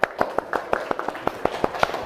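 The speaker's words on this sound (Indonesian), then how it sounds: "tepuk tangan Pak Fajri." A class claps in a quick burst of scattered, uneven hand claps, fairly close, with no talking over it.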